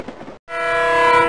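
Speeding train sound effect from a 1993 PC storybook game, a short rumble that cuts out briefly, then a loud sustained horn blast.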